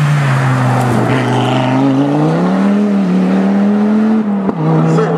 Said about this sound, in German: jetzt kommt unsere Audi.